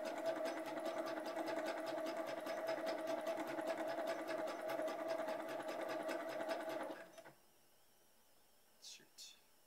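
An embroidery machine stitches a long sleeve in a rapid, steady mechanical chatter for about seven seconds, then stops, leaving quiet room tone with a couple of faint brief noises.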